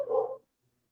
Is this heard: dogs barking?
yes